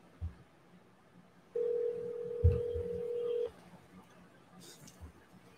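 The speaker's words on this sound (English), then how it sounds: "We're going to go ahead and dial the phone number and get the ball rolling." A single steady telephone tone holds for about two seconds in a quiet room, with faint clicks and handling noise before and after it.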